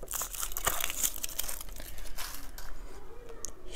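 A crinkly plastic wrapper is torn and crumpled off a surprise toy egg, with close, steady crackling and a few sharper rips throughout.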